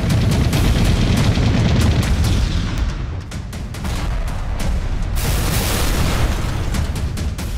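Rocket launchers fire and explosions boom in dense, overlapping blasts during a Chinese army live-fire drill at high altitude in Tibet, loud and continuous with brief lulls.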